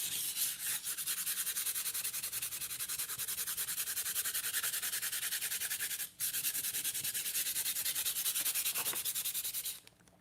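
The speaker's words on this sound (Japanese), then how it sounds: "という感じで今削っていったんですけども" A painted surface being sanded during a live painting session, with a steady, loud, close rasping rub that runs continuously with one brief pause before stopping near the end.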